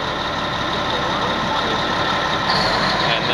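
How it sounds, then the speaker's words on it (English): A Cat D10R bulldozer's diesel engine drops from high idle back to low idle, a loud, steady, close engine rumble that shifts slightly toward the end. "as I push the pedal down, it slows down. Back to low idle."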